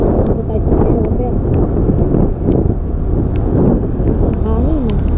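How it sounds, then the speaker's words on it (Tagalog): Strong gusting wind buffets the microphone of a motorcycle riding in the rain on a flyover, a loud continuous roar with rushing surges, while someone talks over it. "Malakas yung hangin."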